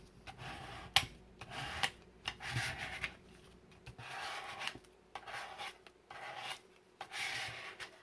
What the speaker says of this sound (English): Use my card to burnish it down.